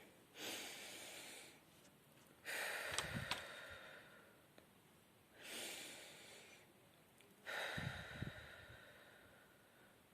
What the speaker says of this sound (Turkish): Hep beraber bir nefes alalım